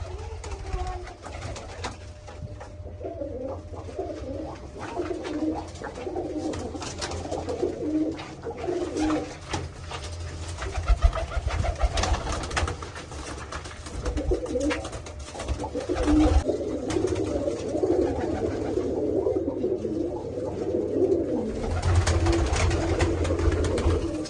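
Newly brought pigeons coo continuously in a dense, overlapping chorus of throaty rolling calls, close and fairly loud, with a steady low rumble underneath and occasional bumps.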